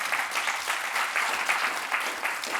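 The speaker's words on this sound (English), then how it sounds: "So we can give a little round of applause" Steady applause from a conference audience at the Skoll World Forum 2026, a dense patter of clapping hands that continues evenly throughout.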